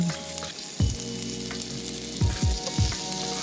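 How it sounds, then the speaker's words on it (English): Diced spam frying in melted butter in a pan at a campsite, with a steady close sizzle and a few low knocks of the pan or utensil; no one speaks. "melt some butter in the bottom of the pan. Step two, add your spam"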